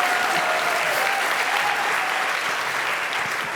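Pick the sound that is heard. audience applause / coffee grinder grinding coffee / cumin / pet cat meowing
audience applause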